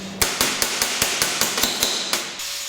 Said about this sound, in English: forming them over with the hammer.